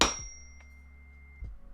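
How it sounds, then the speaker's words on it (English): A little desktop chime bell struck once, giving a bright, close ding with a long sustained ringing tone that fades slowly, followed by a faint soft knock near the end. "my wife got me this little desktop chime"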